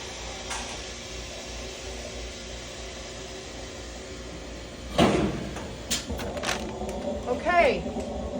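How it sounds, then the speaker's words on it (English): A flash sterilizer door shuts with a sharp clunk about midway, then a few lighter clicks and a short rattle, all over a steady machine hum. "close the door by pushing the white button up here"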